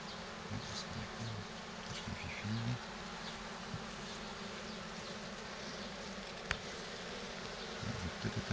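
Honey bees, mostly worker bees, hum steadily inside a hive as the colony is moved from a Dadant hive into a 20-frame Layens hive. The close, even drone continues throughout without speech.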